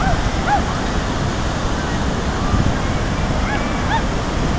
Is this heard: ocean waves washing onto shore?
yes